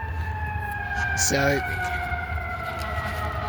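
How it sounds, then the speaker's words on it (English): Outdoors at a distance, an emergency siren wails in a steady, drawn-out tone under a constant low rumble, with one brief spoken word. "there's some sirens"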